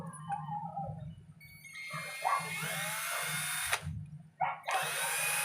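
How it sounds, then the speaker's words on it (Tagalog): Power drill boring a hole through a metal gasket: a high whining bite rising and cutting out in short bursts over a low motor hum, close up and alone. "ang bubutasin lang natin yung kanyang metal gasket"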